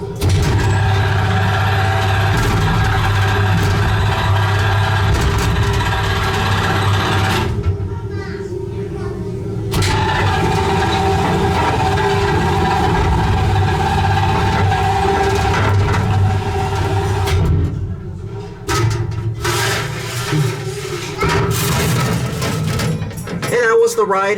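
A traction dumbwaiter at a restaurant in Shenzhen, China runs from inside its cab, a loud continuous mechanical drone and rumble with a steady low hum that briefly drops out twice, with no talking.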